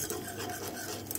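Whisk scraping through millet flour porridge in a pot, a brief steady rasping swish that is close and continuous, with no voices.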